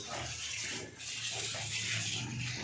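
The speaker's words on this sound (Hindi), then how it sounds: "अब यहाँ पर पानी लगा रहे हैं" Water pours steadily onto new gravel outdoors, a constant gushing splash with a brief dip near the one-second mark, loud and close with no talking.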